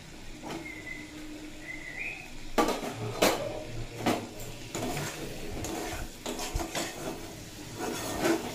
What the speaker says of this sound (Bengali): মশলার সঙ্গে ভেন্ডি খুব ভালোভাবে মিশিয়ে নিয়েছি